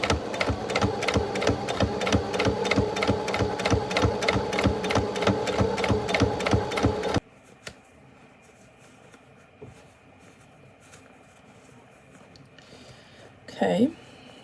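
A household sewing machine on stitch setting number one runs in a fast, even mechanical chatter for about seven seconds, then stops, leaving quiet room sound and a brief voice near the end.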